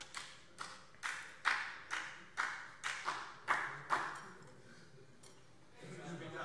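Faint, separate hand claps at a slow, even pace, roughly nine or ten in a row, during a parliament plenary session, with a low murmur of room noise underneath.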